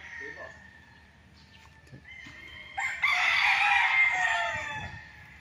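Chickens and roosters are kept in coops on a game farm, and a rooster crows loudly and nearby after some faint clucking and background fowl calls.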